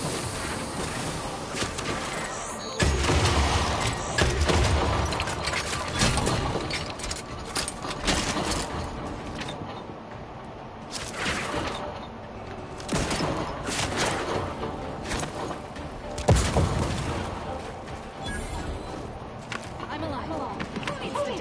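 Enemy gunfire in the game Outer Worlds 2 crackles continually as dense, sharp shots over a busy battle mix, with a voice talking over much of it.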